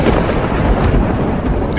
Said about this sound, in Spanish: Una tormenta se aproxima.